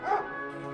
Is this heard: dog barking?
yes